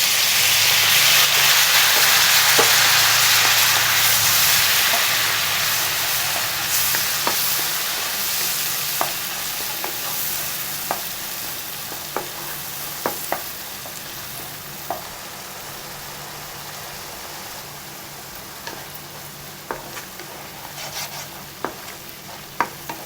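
Finely ground onion paste fries in a pan for paneer butter masala, a broad hissing sizzle that slowly fades over time, with regular sharp scrapes and taps of the spoon stirring it close by.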